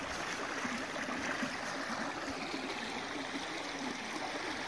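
Creek water flows in a steady, faint wash after hard rain in the Sipsey Wilderness, a continuous soft rushing with no talk.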